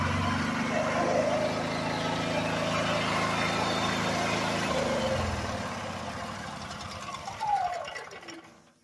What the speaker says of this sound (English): So I'm gonna go ahead and shut the generator down.